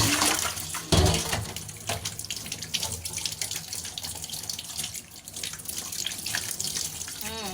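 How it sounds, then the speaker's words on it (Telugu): Wheat flour dough for chapati washed under a running tap, a loud continuous gush of water into a sink with splashes and shifting flow as the dough is rubbed and squeezed. "ఒక చపాతీకి అంత తీసాను కడుగుతున్నాను చూద్దాం"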